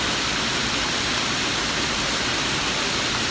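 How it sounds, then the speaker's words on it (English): A waterfall on a family vacation outing, a loud, steady broadband rush of falling water that fills the whole clip without pause. "So I'll let y'all watch the waterfall for a minute."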